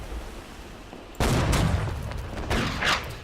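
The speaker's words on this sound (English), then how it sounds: "I'm sure we have a very long range musket shot." In the video game Holdfast: Nations At War, a sudden loud crack of musket fire sets off a noisy burst during a naval battle, followed by a second report a moment later, both sharp and close.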